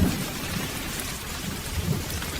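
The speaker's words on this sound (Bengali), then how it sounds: "ঠিক তখনই ঝোড়ো হাওয়া খুব জোরে জোরে মেঘ ডাকতে শুরু করলো" A stormy night of heavy, steady rain with a low thunder rumble beneath it, a dense unbroken wash of sound with no voices.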